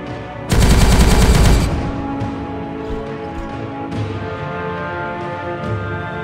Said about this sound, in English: Just a few more shots from me death gun, and this will all be over